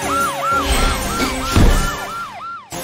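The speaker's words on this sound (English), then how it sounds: "Super police car is ready to stop the thief." Cartoon police car siren wailing in repeated rising-and-falling sweeps, loud and close, with a brief rumble midway and a sudden cutoff near the end.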